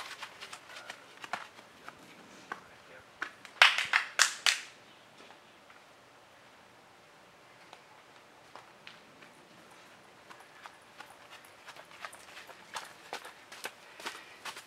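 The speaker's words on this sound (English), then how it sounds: "That clapping was me, yes." Hand clapping: a quick cluster of several sharp, loud claps close by, surrounded by long stretches of faint tapping and quiet room noise.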